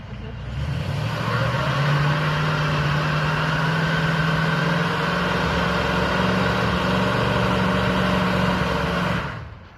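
A Ford Mustang Foxbody with T-tops runs steadily at idle after years unstarted, a close, continuous engine drone with no breaks, alone with no talk.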